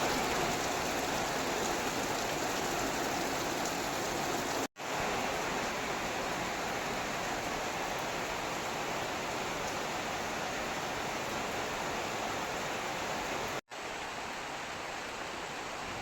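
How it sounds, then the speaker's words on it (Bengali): Steady rain pouring down outdoors, a dense, even hiss that is loud and continuous, cut off by two very brief gaps. "তার মধ্যে দেখো বৃষ্টি শুরু।"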